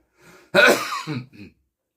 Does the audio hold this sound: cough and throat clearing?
yes